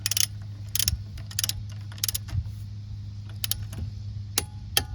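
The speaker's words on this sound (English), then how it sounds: "you push down on the torque wrench, you don't pull up" A torque wrench is pushed down to tighten wheel nuts on a 2003–07 Honda Accord during rear hub bearing work. Sharp metallic clicks and ratcheting snaps sound over a low steady hum, irregularly spaced and close by.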